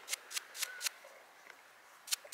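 Quick bristle strokes brush dust off an old coin dug up at a former Prussian shooting range, four crisp swishes in a row, a quiet gap, then two more, close and fairly soft.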